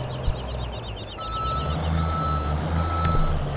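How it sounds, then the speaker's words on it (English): A large plow truck engine rumbles in Farming Simulator 17 while faint, rapid reversing beeps repeat in the background, with a steady mechanical drone. "Oh, reverse lights and backup sound."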